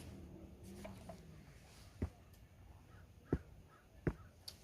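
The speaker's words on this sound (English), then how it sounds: "So we got crows." Crows calling outdoors beside a spring lake, a few separate sharp caws spaced apart over faint background hiss, moderately distant, with no talking.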